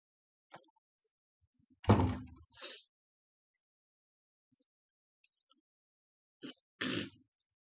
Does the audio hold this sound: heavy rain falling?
no